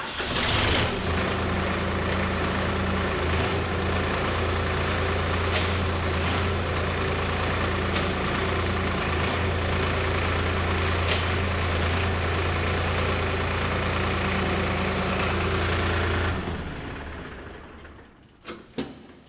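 A Solis E Series tractor engine runs at a steady idle for a long stretch, a continuous low drone with a mechanical hum, then cuts off abruptly near the end with a couple of small clunks.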